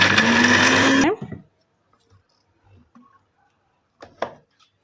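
A mixer grinder whirs loudly for about a second while grinding masala with Kashmiri red chilli for fish curry and fish fry, then cuts off, followed by faint clicks and handling sounds.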